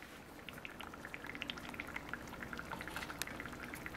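Butter bubbles and spits around a cote de boeuf steak in a pan, a soft, close crackle of irregular pops and spatters over a low steady hiss, with no speech.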